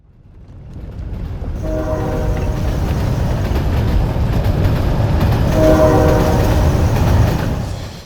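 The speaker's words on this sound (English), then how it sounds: "I could look down and see a train going past" A train rumbles past at moderate distance, its steady roar building and holding, with two long horn blasts sounding partway through.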